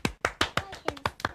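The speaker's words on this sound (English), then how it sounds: "Let's give Hayley a clap" A few people clap for a quiz winner at a numbers-themed quiz; about seven sharp, distinct claps in an uneven rhythm, close and fairly loud, with no talk.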